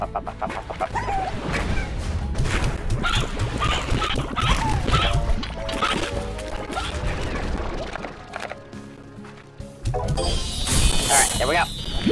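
Briar hens in the video game Slime Rancher cluck and squawk in a busy farmyard clamor, layered over game music and effects, with a brighter burst near the end.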